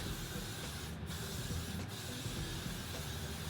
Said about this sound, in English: Let's lock that in with a little bit of hairspray.